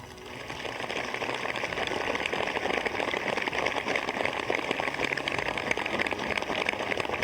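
Steady rain falling in Srinagar, a dense, even hiss of drops pattering on surfaces that continues unbroken throughout, fairly loud with no voices.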